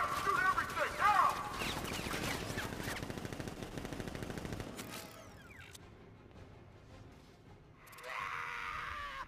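Rapid gunfire and mechanical clatter burst out in a Batman video game, dense and loud for several seconds, then fading into quieter whooshing effects as a character's voice speaks over the action.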